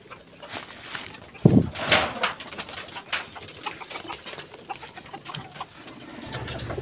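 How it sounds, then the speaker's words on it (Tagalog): Racing pigeons back home at their loft after a training flight, with soft cooing and fluttering wing flaps, one louder flurry near the start, over low background noise. "yung ibon is dito na sila kapatid, nakauwi na"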